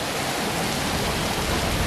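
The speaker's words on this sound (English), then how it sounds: "it's so windy there and it's raining" Heavy rain driven by strong wind on a road in Silivri, Turkey, a dense, loud, unbroken hiss and roar with no distinct drops standing out.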